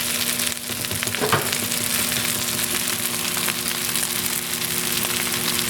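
Sesame oil sizzles steadily in a hot pan, a close, dense, even crackling hiss that continues without pause.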